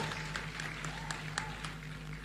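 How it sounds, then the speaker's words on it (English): Audience applause at the closing ceremony of the Youth Connekt Africa Summit in Nairobi, a soft, distant patter of clapping over a steady low hum, with a few louder individual claps standing out. "A round of applause."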